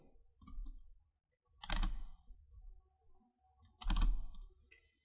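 Three separate bursts of clicking keystrokes on a computer keyboard, close and fairly quiet, with short pauses of silence between each typing burst.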